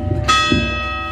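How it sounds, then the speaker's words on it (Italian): Church bells ringing at eleven o'clock during a feast day for the Madonna del Pollino, a struck bell tone ringing out and decaying over a brief moment. "Le campane"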